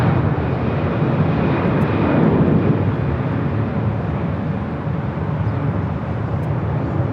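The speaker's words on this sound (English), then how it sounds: "taking off to, is it Wuxi? On the A330-200 freighter." An Airbus A330-200 freighter takes off at Los Angeles International Airport, its jet engines producing a loud, steady broadband roar that holds throughout and eases only slightly toward the end.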